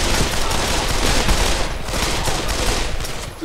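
Rifle fire in Pavlov VR pours out as a loud, continuous stream of rapid automatic shots, close and dense, filling the whole stretch with barely a pause.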